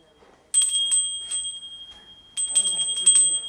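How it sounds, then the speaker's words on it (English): A hand bell is rung during the Kukur Tihar dog festival, giving two bursts of bright, sustained metallic ringing with a steady high tone between them. The bell is loud and close, and there is no talking. "The ring bell."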